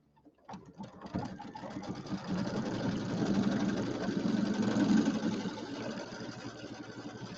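An embroidery machine stitches a placement line for glitter vinyl on a penguin mug rug, starting with a few clicks and then running in a fast, steady, close-up rattle.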